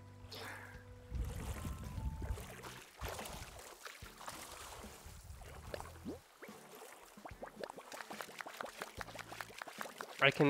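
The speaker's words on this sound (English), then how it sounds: "I can make splashies." Repeated quick watery splashes and pours from a character splashing while swimming in Animal Crossing New Horizons. They grow into a fast string of short bursts toward the end, with faint game chimes behind them.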